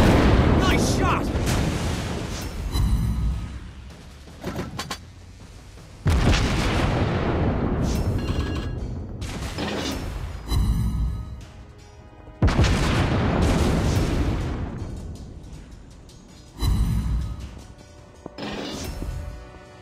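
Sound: warship guns firing in a naval video game

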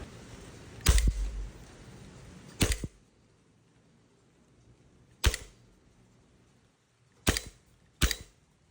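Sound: silver Army Armament R31 airsoft BB gun firing at a target

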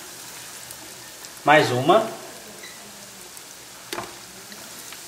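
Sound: coxinhas frying in oil

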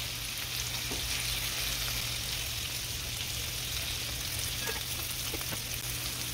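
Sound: vegetables sauteing in oil on a Blackstone griddle

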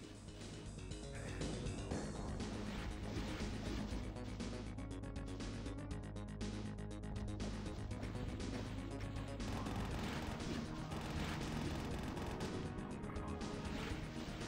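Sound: gunfire and chaingunners in video game Valiant

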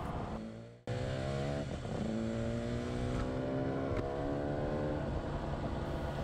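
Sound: Yamaha RD 250 LC motorcycle accelerating into the power band

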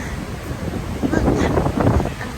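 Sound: strong wind at the coast

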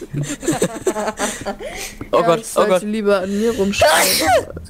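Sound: sneeze

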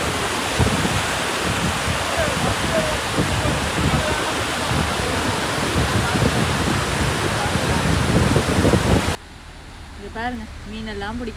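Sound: flood water rushing over reservoir bund

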